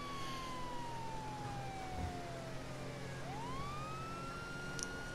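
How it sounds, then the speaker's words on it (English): A police siren in Grand Theft Auto V wails continuously, its pitch sweeping down and then back up over a steady engine and road rumble, moderately loud with no talking. "Sirens, not horns."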